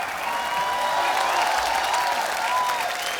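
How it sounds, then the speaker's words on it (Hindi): A studio audience at a comedy show claps steadily and loudly for a few seconds, a dense, even wash of applause with no one speaking over it. "जोरदार ताली होनी चाहिए यार"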